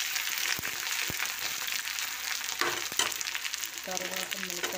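Ginger and onion paste sizzles steadily in a hot pan while a spoon stirs it, with a few sharp scrapes and clicks against the pan, close and continuous, no talking.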